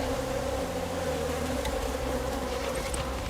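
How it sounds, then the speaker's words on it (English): Honey bees swarm densely around an opened hive during a honey harvest, their loud, continuous buzzing close by and steady throughout, with no voices. "I'm covered in bees!"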